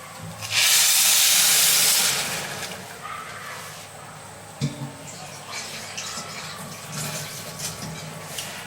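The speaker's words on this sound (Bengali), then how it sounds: "এই গরম পানিটুকু আমি ওর মধ্যে দিব" Hot water is poured from a neighbouring pot into a pot of vegetable pulao, making a loud rushing hiss for about a second and a half that then fades into softer bubbling and clinks while a person talks.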